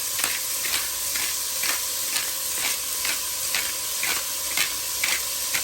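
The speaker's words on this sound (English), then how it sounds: "So this is kind of like sauteing the onion and the garlic" Onion and garlic sauté in a pan for beans and rice, giving a steady, dense sizzle close up, broken by regular soft stirring clicks.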